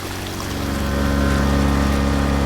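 Water being dumped downstream in the Drain Sim video game, a loud, steady rushing gush with a deep pump-like drone that swells slightly and then holds constant.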